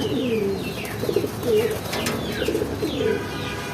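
Pigeons coo repeatedly nearby, soft throaty calls overlapping in an irregular rhythm, with a few brief higher chirps.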